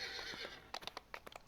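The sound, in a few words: horse being mounted in a video game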